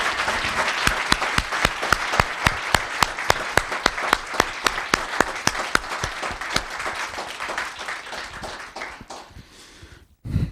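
Applause for outgoing commissioners at a Los Gatos town council meeting: steady, dense clapping from a room of people with sharp individual claps standing out, sustained for about ten seconds before stopping abruptly.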